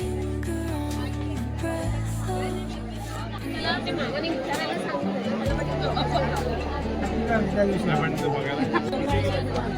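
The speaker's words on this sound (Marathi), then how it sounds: "आज मंदिरात खूप गर्दी होती." Dense crowd chatter fills a busy queue at Harihareshwar temple on a long weekend, with many overlapping voices close and at a distance, and a steady low hum underneath.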